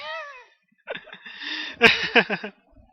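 A house cat gives a short rising meow, followed by a person's brief muffled voice and laughter nearby.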